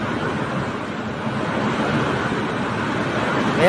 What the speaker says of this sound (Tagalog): may kalakasan din po talaga yung hangin ng bagyong to